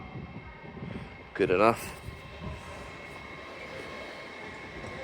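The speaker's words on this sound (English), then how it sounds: "Also arrived in there, the Transpennine Express 185, I believe bound for Scarborough." A TransPennine Express class 185 train at York station produces a low, distant rail rumble, with a brief loud burst near the start and a short spoken remark over the steady background.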